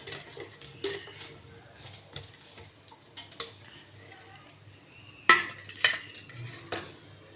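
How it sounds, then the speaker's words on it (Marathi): Roasted eggplant being moved onto a plate in a home kitchen, scattered light clinks and scrapes of utensils against metal and dishware, faint and irregular with a few louder knocks, beneath occasional quiet speech. "आपलं वांगे काढायचे आहे खाली आपण हे प्लेटमध्ये काढून घेऊ"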